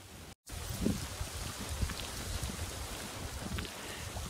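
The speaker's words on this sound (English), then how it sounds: "Wow, it's coming down hard." Rain pours down steadily with a broad hiss and scattered drips nearby, after a brief dropout at the start.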